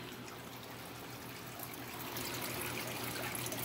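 Water trickles steadily from the waterfall feature of a fish tank, a continuous close hiss and splash with a low pump hum underneath, growing slightly louder toward the end.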